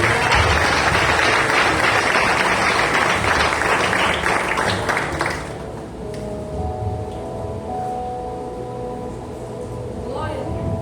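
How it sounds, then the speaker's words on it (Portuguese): Church congregation clapping in praise at an eleventh-anniversary evening service, dense loud applause for about five seconds, then fading into room ambience with a sustained musical tone underneath. "você louve a Deus com palmas bem alegres"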